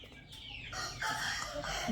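A rooster calls close by with short, throaty clucking sounds, a bit loud against faint background noise.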